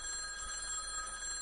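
A phone in the video game Z.A.T.O. rings with a steady, bright electronic trill that fills the short moment on its own.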